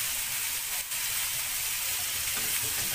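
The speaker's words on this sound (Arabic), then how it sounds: "نبدأ مع البصل نقلب فيه التوابل بتاعته اللي حطيناها كلها،" Onions frying with spices in a pan, a steady loud sizzle and hiss that stays constant throughout, close and alone without any voices.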